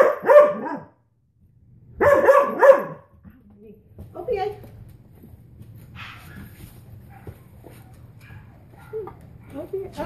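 A dog doing heeling training gives two loud, close bursts of barking near the start. Quieter sounds and low background noise follow, with possible voices nearby.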